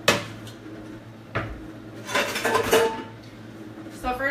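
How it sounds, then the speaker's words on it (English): Pots, pans and metal utensils are handled in a home kitchen before making soup: a few separate clanks and knocks, then a cluster of rattling metal clinks, all close and fairly loud, with a voice murmuring faintly underneath. "So I'll get my utensils here."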